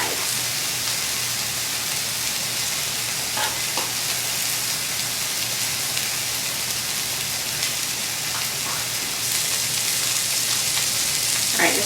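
Pieces of food fry in a pan until brown and crispy, giving a loud, dense, steady sizzle with a few soft knocks as they are flipped, heard close with no talk.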